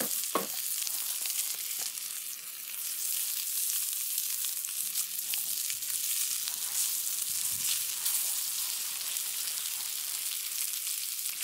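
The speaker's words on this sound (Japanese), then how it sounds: "カリッとなるまでよく焼きましょう。" Thick-cut bacon sizzles and spits steadily in a hot pan while it crisps, a continuous close hiss with occasional pops and scraping stirs, and nobody speaks.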